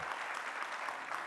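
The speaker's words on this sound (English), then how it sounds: "that deserves a round of applause for you" Brief, faint burst of crowd applause at a live podcast taping at a convention, an even patter of clapping with no pause.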